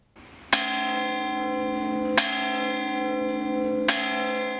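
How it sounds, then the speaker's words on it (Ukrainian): A church bell rung at Easter time, three loud clear strikes spaced about a second and a half apart, each ringing on with a long sustained metallic hum between them. "у дзвони б'ють під час богослужінь та коли сповіщають про біду чи загрозу"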